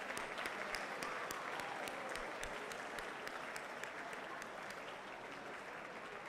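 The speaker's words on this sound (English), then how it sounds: "let's all give each other a round of applause of all the great things you've accomplished this year" Steady applause from a crowd at a university sports awards ceremony, many hands clapping in a broad, even roar that slowly eases, fairly distant with no voices over it.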